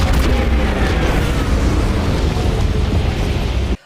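A bomb explodes in a Star Trek: Picard season 3 episode, producing a loud, sustained, rumbling roar of blast and debris that fills the scene for several seconds before cutting off sharply.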